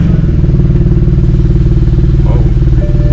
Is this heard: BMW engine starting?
yes